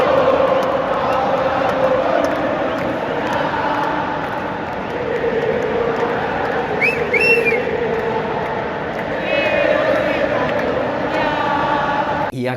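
Argentine football fans fill Lusail stadium at a World Cup semifinal in Qatar, a dense, steady roar of crowd singing and cheering that swells in waves, with a few whistles rising above the mass of voices.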